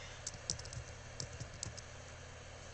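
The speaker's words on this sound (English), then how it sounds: "I'm going to type in my great-grandfather, Isaac" Soft, close typing on a computer keyboard, quick irregular bursts of clicking keys with short pauses, alone against a quiet room hum.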